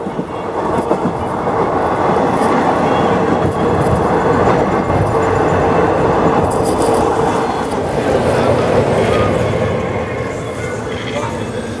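The Marathwada Express pulls into Mukundwadi halt with a loud, continuous rumble and rattle of rolling carriages, heard close from on board, with faint voices mixed into the din.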